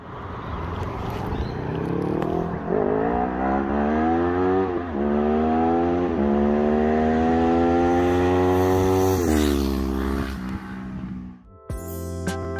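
A 2005 Kawasaki ER-6n 650cc parallel-twin motorcycle engine revs up in several rising pulls, holding a loud, close, throaty drone for seconds before dropping back to idle.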